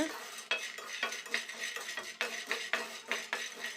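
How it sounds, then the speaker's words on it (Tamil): A spoon scrapes and stirs dry grains being dry-roasted in a pan over medium heat, in quick repeated strokes with a faint rattling texture. "ரொம்ப வறுத்துடாதீங்க, ஒரு மீடியமாக வறுத்துக்கோங்க."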